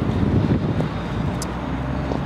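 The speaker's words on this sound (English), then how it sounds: "Sorry, it's very windy today." Strong wind buffets the microphone outdoors on a street near Kyiv's Maidan Plaza in early 2015, a loud low rumble that swells and eases without pause.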